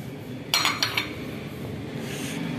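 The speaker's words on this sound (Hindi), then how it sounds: "ये सारे मिक्सचर को हम ये 2 अंडों के साथ मिक्स कर लेंगे।" Seekh kebab meat mixture being mixed with two eggs in a bowl: two quick clinks of a utensil against the dish, then a low steady room hum.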